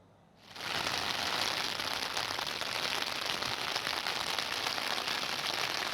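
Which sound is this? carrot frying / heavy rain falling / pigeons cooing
heavy rain falling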